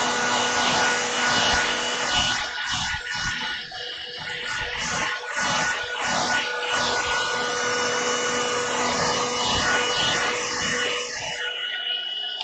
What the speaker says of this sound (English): Let me use my hairdryer